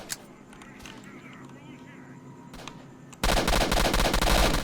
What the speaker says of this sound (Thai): ไล่ยิงเรื่อยๆครับ